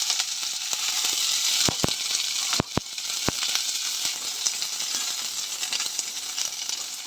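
Chopped onion hits hot mustard oil in a wok and sizzles steadily, with a few sharp clinks of a utensil against the pan early on and a continuous frying hiss throughout.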